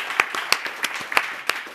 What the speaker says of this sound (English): Give her a warm round of applause, everybody